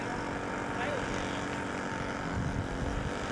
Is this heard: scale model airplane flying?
yes